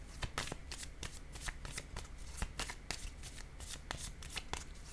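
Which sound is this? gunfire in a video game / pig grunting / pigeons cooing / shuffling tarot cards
shuffling tarot cards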